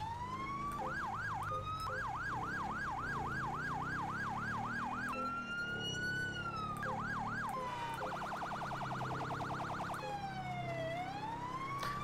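A police siren in the video game GTA 5 cycles through wailing, fast yelping and steady tones, loud and continuous over a low police motorbike engine rumble.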